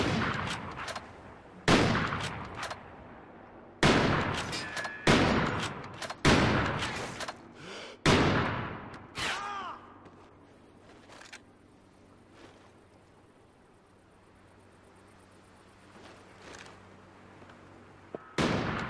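Sharp bursts of gunfire in Call of Duty: Ghosts, a 1v1 sniping match on Strike Zone, crack out in a quick series of loud separate shots, then fade into a low hum with a faint tone.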